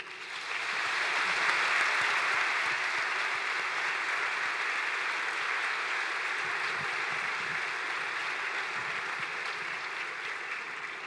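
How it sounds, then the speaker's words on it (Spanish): Sustained audience applause at a gala awards night, given in memory of someone, a dense continuous wash of clapping that holds steady and fills the whole stretch. "Na súa memoria pedimos o primeiro aplauso da noite"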